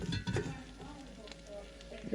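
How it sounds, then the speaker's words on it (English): Onions sizzle on a griddle for cheese steaks, a close, continuous frying hiss with a few soft knocks at the start and a voice talking over it. "Gotta put those onions in there."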